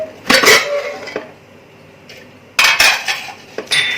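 Metal clanks and scrapes of a pressure cooker lid being worked open after cooking masoor dal khichdi, two bursts of clattering metal with a quiet pause between, close by.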